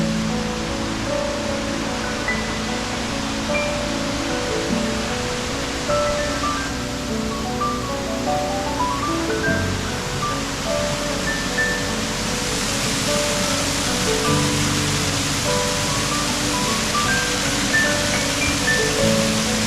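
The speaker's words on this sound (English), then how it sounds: "All the rain we had the last month, the water in the stream and falls was really running." A stream and waterfall at Ringing Rocks Park in Bucks County, Pennsylvania, running high after a month of rain, heard as a constant broad rushing roar of water, with faint scattered tones from the surroundings.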